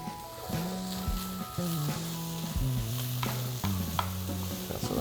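Mushrooms fry in a hot pan for steak pizzaiola sauce, a steady loud sizzle with stirring scrapes throughout, and background music runs underneath.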